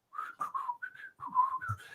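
A person imitates a gardener whistling a tune, giving a short, close, melodic run of whistled notes with brief gaps between phrases and no other sound.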